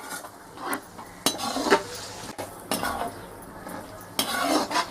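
Four medium potatoes being stirred and fried in a pot for prawn biryani, with a metal spoon scraping and clinking against the pot in several separate strokes over a soft, steady sizzle.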